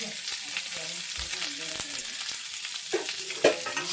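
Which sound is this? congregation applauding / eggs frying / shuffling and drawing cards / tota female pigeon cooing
eggs frying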